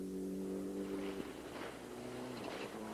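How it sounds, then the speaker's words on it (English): A rally car engine runs with a steady harmonic drone that abruptly cuts out, then stutters and misfires in uneven bursts from the traction control system at fairly close range, at a 1998 SCCA Pro Rally. "the distinctive sound you hear there, that's the traction control system."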